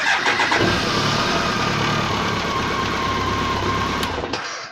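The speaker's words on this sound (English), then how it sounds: "So you switch the ignition on, nothing comes on, and start the bike." A BMW K1200RS motorcycle engine fires up and runs at a steady, loud idle throughout with a whirring mechanical drone, close by and alone, cutting out abruptly at the very end.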